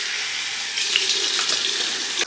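Lukewarm tap water runs steadily from a faucet into a sink for washing the face, a close, continuous splashing hiss that grows slightly louder partway through.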